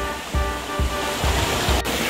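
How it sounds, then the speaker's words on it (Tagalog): Cascading waterfalls at Dragon Ball Waterfalls on the Wang Chung Stream roar in a steady, dense rush of falling water, loud and close, with rhythmic low surges beneath the continuous spray. "Look at that, cascading waterfalls."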